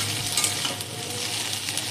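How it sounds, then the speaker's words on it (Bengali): Okra frying in oil in a pan gives a steady, close sizzle with light stirring scrapes, holding even throughout with no voices. "এবার একটু হালকা করে ভেজে নেবো ঢেঁড়সগুলোকে"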